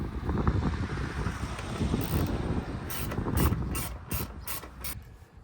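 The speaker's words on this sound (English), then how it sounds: "I've got to take off all of these Torx fixings." A ratchet with a Torx T25 bit loosens fixings on a crashed BMW S1000RR motorcycle, rapid clicking bursts arriving in short repeated spells over background rustle and wind, with no voices.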